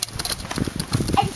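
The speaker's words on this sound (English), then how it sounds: "And she's riding on a horse." Horse hooves clip-clop in a quick, uneven rhythm against a noisy, rumbling background, fairly close, with a child riding the horse.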